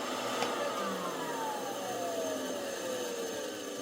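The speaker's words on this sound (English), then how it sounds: "The vacuum motor is controlled by a foot pedal." A steady, loud vacuum motor whine from a Robertson Photo-Mechanix 432 MK II process camera drones continuously nearby with a slowly falling tone.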